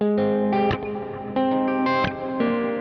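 Electric guitar run through effects pedals, heavily processed with distortion and reverb, strums several sustained chords with sharp attacks, loud and close with no talking.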